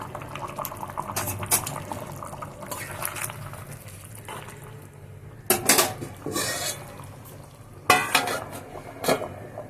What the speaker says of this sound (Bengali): এবার ঝোলের মধ্যে ডিমগুলো দিয়ে দেব আর ঢাকা দিয়ে ফুটতে দেব।